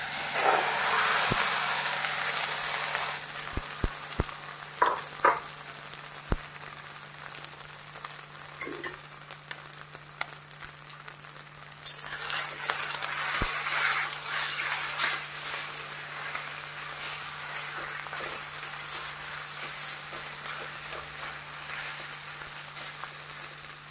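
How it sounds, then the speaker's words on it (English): Beef stir-frying in oil in a very hot pan or kadai, with a continuous bright sizzle and occasional sharp clinks of a spatula against the pan. "my pan is already hot now. In order to stir the beef, I will add oil. And beef."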